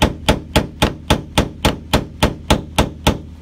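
Hammer blows driving a punch into the head of a stuck bolt on a 1977 VW Type II bus, twelve sharp metallic strikes in a steady even rhythm, close and clear with nothing else heard.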